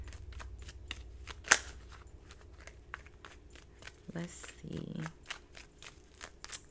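Soft riffling and light slaps of tarot cards being shuffled come in small bursts, close by, alongside a few brief spoken words.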